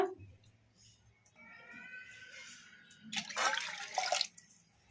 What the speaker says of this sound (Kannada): ನಾವು ಯಾವ ಕಪ್ಪಿಂದ ತೊಗರಿಬೇಳೆ ತೊಗೊಂಡಿದ್ರೆ ಆ ಕಪ್ಪಿಂದ 2 ಕಪ್ ನೀರು ಹಾಕೋಣ.